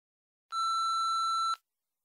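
An answering machine sounds a single steady electronic beep, clean and about one second long, before a voicemail message, with silence on either side.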